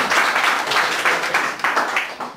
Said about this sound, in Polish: Oklaski dla żony.